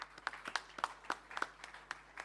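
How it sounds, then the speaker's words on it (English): Scattered applause at an MTN Ghana Foundation award ceremony at Labadi Beach Hotel, heard as a handful of distinct, separate claps spaced out in a sparse rhythm, fairly faint and somewhat distant in a large room. "Ladies and gentlemen, a round of applause"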